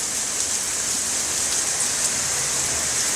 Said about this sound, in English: Just love it when it rains really hard.